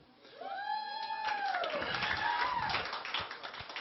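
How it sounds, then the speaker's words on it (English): A comedy club audience on a Sunday night breaks into clapping and whoops, a lively mix of hands and rising cheering voices rather than a long ovation. "Give yourself a little round of applause for getting out on Sunday night,"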